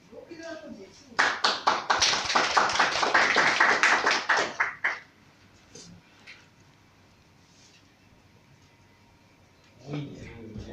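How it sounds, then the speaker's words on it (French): Audience applause for a speaker at a French-language gathering, a burst of many hands clapping for about four seconds that dies away, followed by a quiet room with a few scattered sounds. "Je vous prie de l'applaudir, s'il vous plaît."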